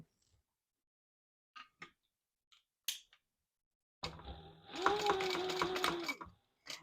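A sewing machine backstitches along a leather wallet gusset: a few faint clicks, then a loud burst of rapid, even stitching that runs about two seconds before stopping.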